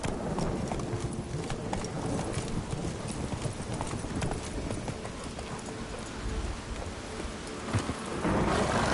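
Video game horse hooves from The Witcher 3 clop rapidly and continuously in a steady galloping rhythm, mixed with dense rushing noise like rain and rumbling weather.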